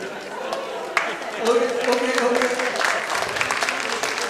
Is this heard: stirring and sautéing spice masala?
no